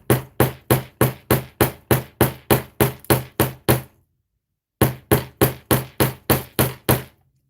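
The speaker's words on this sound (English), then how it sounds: "I'm hammering this well beyond what I would have normally." Hammer blows on a craft desk, a fast even series of about twelve sharp, loud knocks, a pause of nearly a second, then eight more, close and alone.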